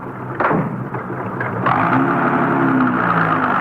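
A police radio-drama car effect for Unit 1K80: a door-like thump, then an engine starts and revs up into a steady, close drone with no voices.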